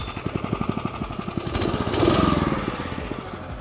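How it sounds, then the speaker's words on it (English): A BlueBird sod cutter's small engine fires up with rapid regular chugging pulses, then rises into a louder steady running roar, heard close and with no talking. "Now we're ready to go ahead and get started and start cutting sod. And we'll start the machine."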